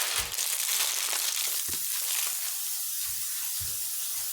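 Aerosol spray can hissing in short repeated bursts over a pan, close and fairly loud, with brief pauses between sprays.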